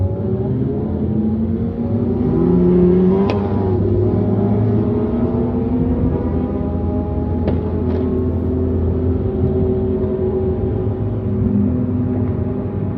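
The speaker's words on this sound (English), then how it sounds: "A lot of people enjoying their sports rides." Sports cars revving and driving along Takhassusi Street in Riyadh in the early morning, with a continuous loud engine roar and rising and falling revs as vehicles pass close by.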